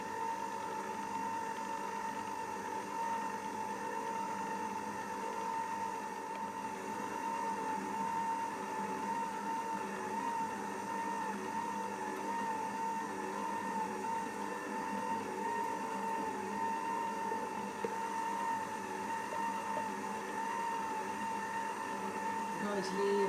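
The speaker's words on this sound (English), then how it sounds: "I'm going to leave this mixing probably for about 5 minutes or more" A mixer motor runs in a steady, continuous drone as wet ingredients are blended into dry pizza dough, holding an even pitch and loudness throughout.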